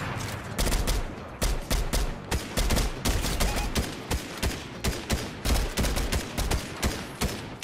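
Rapid bursts of gunfire in a Fortnite match, sharp repeated shots firing in uneven volleys close by, with scattered impacts and game noise between them.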